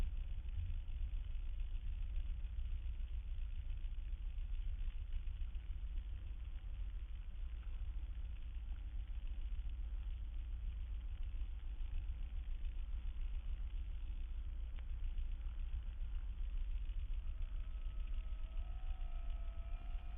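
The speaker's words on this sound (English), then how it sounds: "The whining sound that you hear is the sound of the fuel boost pumps, which are switched on for takeoff and landing." Aircraft fuel boost pumps whine steadily while the plane taxis, a constant mechanical hum with engine drone underneath that holds at an even level throughout.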